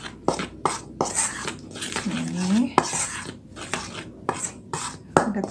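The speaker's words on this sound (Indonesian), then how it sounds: "Kita aduk sampai rata, sampai tercampur semua." Utensil scraping and clinking around a bowl while stirring batter for crispy KFC-style banana fritters, a run of quick irregular metallic strokes and taps, close and fairly loud, with brief pauses between bursts.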